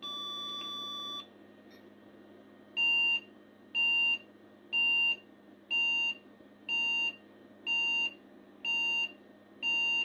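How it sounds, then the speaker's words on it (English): A 386DX computer motherboard emits a steady, evenly spaced series of about eight short electronic beeps after an initial longer tone, clear and close with no talk. "we can try to turn this thing on and see if this will still beep"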